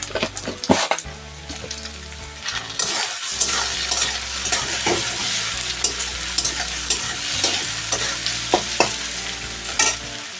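Potatoes fry with salt in a pan, with a loud, close sizzle and frequent scraping, clanking stirs in an irregular rhythm throughout.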